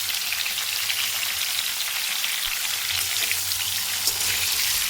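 Boiled potatoes sizzle in hot oil in a pan, salted before frying, a steady dense crackle with scattered spits running throughout and no talk.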